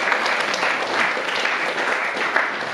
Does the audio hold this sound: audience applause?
yes